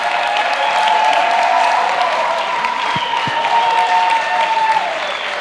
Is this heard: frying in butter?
no